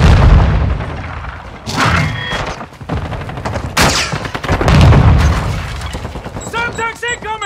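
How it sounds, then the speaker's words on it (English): A flash grenade detonates in the shooter game Call of Duty: Modern Warfare II: sharp, loud blasts burst out amid rattling gunfire and battle din, with voices calling out and a brief whining tone near the end. "One flash grenade!"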